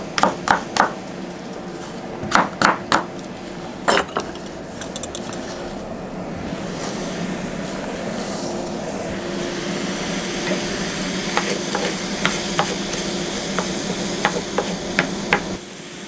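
Celery and apple pieces go into a hot pan, with a few sharp clatters followed by a steady sizzle and occasional clicks of stirring, close and fairly loud.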